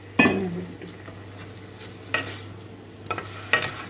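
A utensil scrapes and stirs gathi with fermented fish and masala in a pan, with a few distinct scraping strokes and clinks over a low steady hum.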